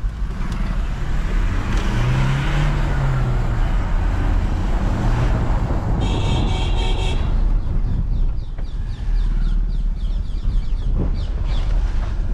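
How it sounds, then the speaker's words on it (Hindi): A Toyota Innova's horn blares in one sustained honk midway through, over the steady rumble of heavy traffic in a busy market street, with faint high chirps following. "मैं हॉर्न बहुत ज्यादा बजाता हूँ for my own safety plus आगे वाले की।"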